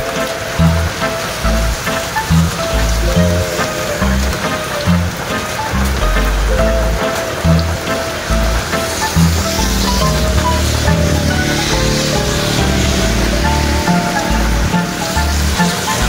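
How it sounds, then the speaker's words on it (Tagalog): Dense, steady heavy rain pours down loudly, heard from under a shelter, with a constant broadband wash and rhythmic low thumps running beneath it throughout. "Ang lakas ng ulan guys at inabutan tayo."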